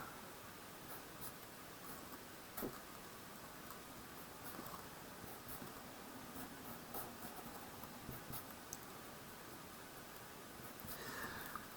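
Pen strokes on paper or a board while chemical bond structures are drawn, a soft continuous scratching with scattered small ticks over faint background hiss, quiet and close.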